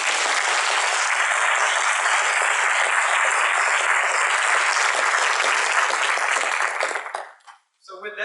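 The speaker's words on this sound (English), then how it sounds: "So a round of applause for them." Loud, steady applause from a large conference audience fills the room for several seconds before tapering off abruptly near the end.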